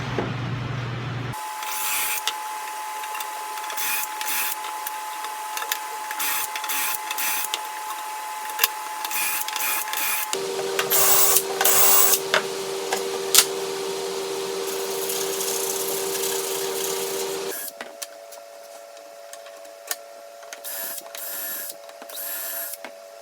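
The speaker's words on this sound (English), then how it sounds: "I'm just going to take my shelf pin jig and I'm going to make the consecutive holes" A drill boring consecutive shelf-pin holes through a shelf pin jig on bookcase parts for a fireplace mantel surround, a steady close motor whine in several long runs that shift pitch between holes.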